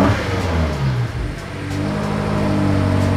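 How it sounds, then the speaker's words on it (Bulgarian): A BMW M8 convertible's twin-turbo V8 starts up and revs loudly, its deep exhaust roar rising and holding steady at close range with no talking over it. "ако натиснем това червеното копченце тук, може да чуем V8 битурбо отзад"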